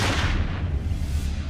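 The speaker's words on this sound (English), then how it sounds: "Suddenly, around 8:30 p.m., shots rang out." Gunshots ring out on a September evening around 8:30 p.m., a heavy booming report that decays into a rumbling tail.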